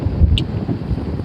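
Wind buffets the microphone as an electric rider speeds through fields at around 40 km/h, a loud rumbling roar with gusty low-end thumps and no talk.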